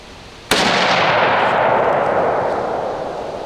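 Hunting rifle firing Remington 150-grain Core-Lokt Tipped ammunition at a 100-yard range, one sharp, loud close report followed by a long rolling echo that slowly fades.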